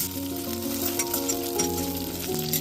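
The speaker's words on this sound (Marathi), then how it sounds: "याच कढईवर आपल्याला हिरवी मिरची सुद्धा भाजून घ्यायची" Steady sizzling of green chillies roasting in a hot iron wok, continuous and fairly close, with no talking over it.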